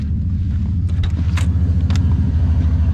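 A car engine idles close by with a loud, low, throbbing rumble, plus a few faint clicks and rattles on top.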